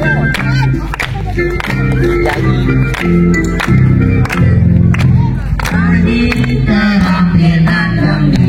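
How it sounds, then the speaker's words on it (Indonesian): An audience of scouts claps at an elementary school campfire night, with sharp, irregular claps ringing out over loud crowd noise, chanting and music. "Tepuk tangan, tepuk tangan."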